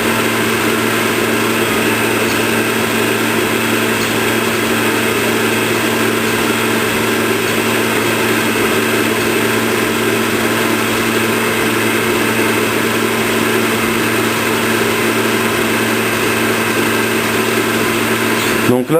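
A stand mixer runs at a steady high speed whipping Italian meringue for macarons, giving a constant, fairly loud motor whir with no breaks.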